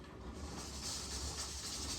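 A steady, hissing mechanical rumble from home canning equipment fills the kitchen background, continuous and fairly loud, with no talking.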